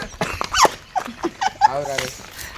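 A dog whimpers and yips in short, high bursts close by, with people speaking around it.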